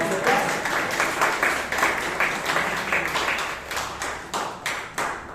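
A Toastmasters meeting audience in Bangalore claps steadily for several seconds, a dense, even round of applause filling the room on its own, easing slightly toward the end.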